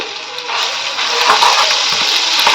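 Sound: coriander and green chili paste frying in a pan

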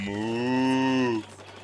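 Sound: cow mooing in the video game Splatoon 2

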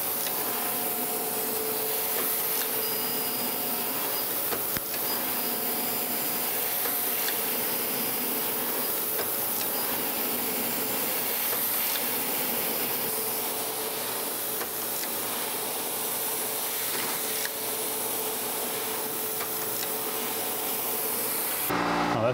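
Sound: surface grinder grinding a tapered machinery gib

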